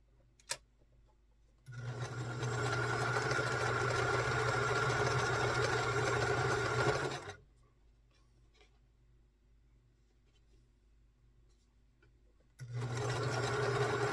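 A sewing machine stitches quilt pieces together in two bursts, each a steady mechanical whirring hum lasting several seconds, separated by a quiet pause with light handling sounds.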